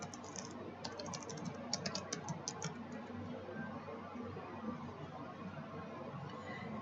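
A short flurry of faint computer keyboard clicks early on, then quiet room hum, with no talking.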